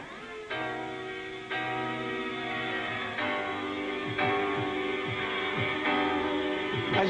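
A 1994 jungle track sampling a soul song plays faintly: sustained soul chords with a breakbeat rhythm underneath, changing sections every second or so, and no talk over it.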